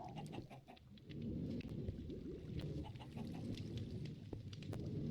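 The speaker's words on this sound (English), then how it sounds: "And we have our chicken farm." Chickens on an automatic chicken farm in Minecraft cluck in short repeated bursts over a steady low background hum, moderately close and fairly quiet, with no talk.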